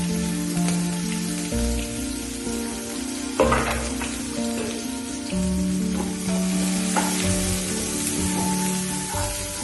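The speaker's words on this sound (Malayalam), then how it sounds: "കടുക് പൊട്ടി കഴിഞ്ഞപ്പോൾ തന്നെ ഞാൻ വെളുത്തുള്ളി, ഇഞ്ചി, കറിവേപ്പില," Garlic, ginger, curry leaves and green chilli sizzle steadily in hot oil after mustard seeds have popped, a dense crackling fry for an egg curry, with a few sharper pops and stirring clatters breaking through, close and continuous with no talk.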